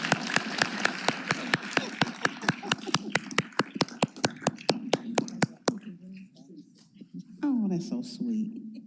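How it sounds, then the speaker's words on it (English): A room at a Memphis City Council meeting claps for a councilwoman being recognized, with sharp distinct claps in a quick uneven rhythm. The clapping stops and a voice speaks alone afterward. "Give her applause,"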